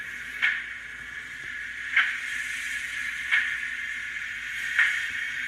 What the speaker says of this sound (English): 17, safety valves.